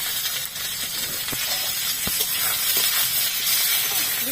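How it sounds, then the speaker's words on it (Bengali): Sliced onion, dried red chillies and whole garam masala frying in hot oil give off a steady, loud sizzling hiss with small crackles throughout. "তারপরে কেটে রাখা পেঁয়াজটাও দিয়ে দিচ্ছি।"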